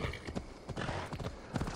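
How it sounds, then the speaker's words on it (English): A horse's hooves clip-clop in Assassin's Creed Valhalla, a quick, uneven run of hollow thuds with game ambience behind them, fairly quiet overall. "Need my horse? It's a horse, of course."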